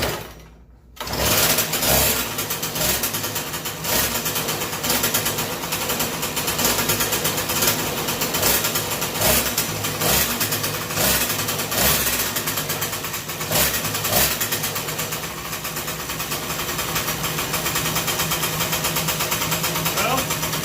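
A 49cc two-stroke engine converted onto a Razor E-150 scooter runs steadily on half choke, a loud buzzing drone that holds almost unbroken from start to finish after a brief quiet moment, with voices talking over it.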